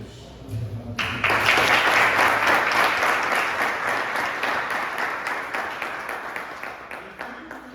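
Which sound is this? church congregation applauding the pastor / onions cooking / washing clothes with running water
church congregation applauding the pastor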